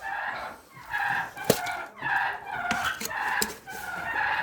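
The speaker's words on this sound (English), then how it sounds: "we take our turkeys out of the pen so it's not absolute chaos when I come to feed them" Ranch turkeys and chickens crowding at feeding time, repeated clucking and gobbling calls in bursts, fairly close, with a few sharp louder cries among the flock.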